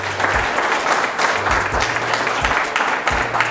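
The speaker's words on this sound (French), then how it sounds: "Vous pouvez applaudir pour lui." Audience applause at a French talk on building an automated online business, a dense steady clatter of many hands filling the clip at close range with no voices over it.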